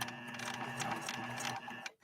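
A PFAFF 1222 sewing machine runs a detailed decorative stitch with a quick, even mechanical whir and rapid ticking, close and moderately quiet, then stops abruptly near the end.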